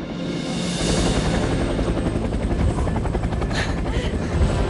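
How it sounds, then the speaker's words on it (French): Helicopter flying overhead, a steady loud rotor chop and engine roar that fills the whole stretch, with faint voices underneath. "C'est un hélicoptère!"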